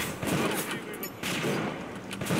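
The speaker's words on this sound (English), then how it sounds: "I think he's using the rivet gun." Big Daddy firing a rivet gun in the Bioshock video game, a dense, continuous burst of rapid shots and impacts that runs for the whole moment with only a brief dip partway through.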